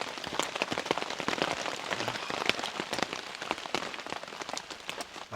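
Heavy rain drums steadily on a camping tent in the woods, a dense close patter of countless drops with sharper individual hits throughout, no voices.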